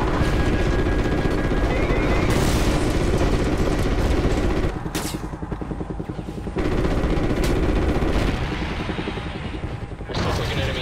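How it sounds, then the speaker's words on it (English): Gunfire, booms and explosions from an aerial combat mission in the video game Call of Duty Ghosts, a dense, continuous loud barrage with sharp bursts and rumbling low blasts throughout. "We're still taking enemy AA fire from behind the smokestacks."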